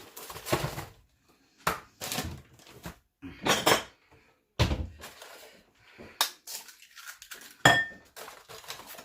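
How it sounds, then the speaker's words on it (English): Two eggs being cracked and scrambled in a mixing bowl, a series of close, separate clinks, taps and knocks against the bowl with quiet gaps between them, no talk. "in a separate mixing bowl, I am going to be adding 2 eggs, and I'm just going to scramble them up"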